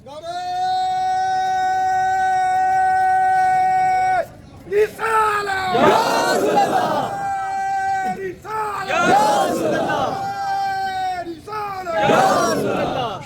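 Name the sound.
crowd chanting a religious slogan at a gathering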